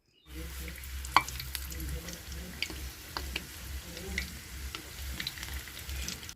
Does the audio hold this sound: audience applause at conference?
no